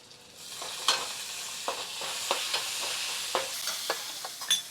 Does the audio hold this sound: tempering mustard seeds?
yes